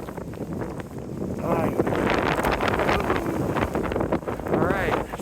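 Strong wind roars steadily across the microphone during a snowstorm on an outdoor large-format 4x5 photo shoot, loud and gusty throughout with broadband rumble and buffeting, with a person talking briefly over it.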